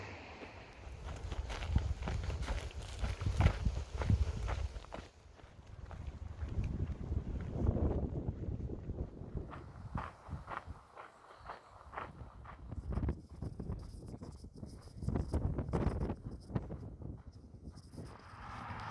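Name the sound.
wind on a road walk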